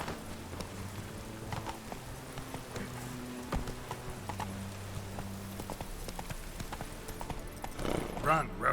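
Roach, Geralt's horse in The Witcher 3, gallops with rapid hoofbeats over a low game soundscape and music, a burst of louder movement near the end.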